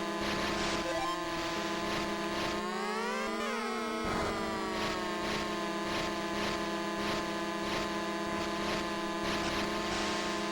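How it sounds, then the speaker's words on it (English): Chiptune engine revving from a Game Boy racing video game, a steady electronic buzz that sweeps up and down in pitch, continuous and fairly loud with no talking. "With the revving sound, you can just like feel the speed"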